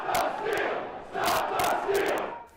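A large crowd of rioters at the Capitol on January 6th, with surging shouts and chants that rise and fall in loud waves, dense and roaring rather than distinct voices.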